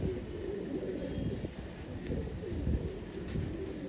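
Fulsira pigeons, a female among them, cooing steadily at close range in low rumbling phrases over a constant murmur, with no voices.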